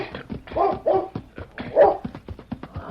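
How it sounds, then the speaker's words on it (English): A mean dog barks in outdoor brush country, several sharp barks and yelps spaced irregularly across the moment, close and fairly loud, with a voice talking around them. "there's a dog down there"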